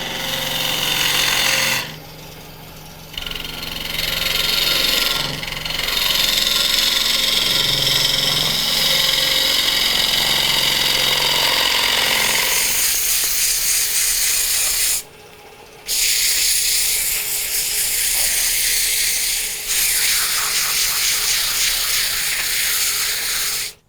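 A wood lathe turns a wet, previously frozen wood bowl, giving a loud, steady whirring hiss that runs almost continuously, with brief dips and a shift in pitch as the speed rises.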